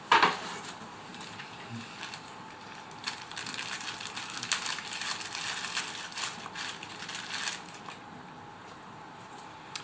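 Packaging from an OM System OM-5 camera kit is handled and shuffled, giving soft crinkling, rustling and scraping after a sharp opening clatter.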